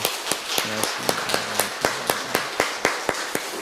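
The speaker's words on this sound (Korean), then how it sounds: "우리 찬양대 수고 많이 해 주시라고 우리 박수로 한번 격려하겠습니다" A church congregation claps to encourage the choir during a Sunday service: crisp, evenly spaced claps in a steady rhythm, several per second, moderately close with a little room echo.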